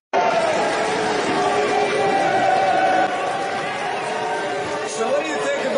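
Crowd at a Utah Republican Party event booing a senator, a dense, steady roar of many voices that holds loud throughout and eases slightly partway through.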